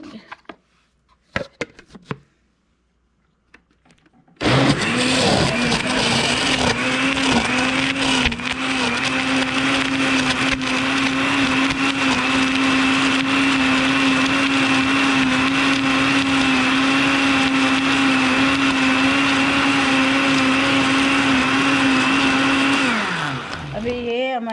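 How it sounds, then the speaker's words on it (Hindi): Blender loudly whirring as it blends watermelon with ice cubes and sugar for juice, a steady motor roar starting abruptly after a few faint clicks and running about twenty seconds before stopping. "और इसको ब्लेंड कर दूँगी"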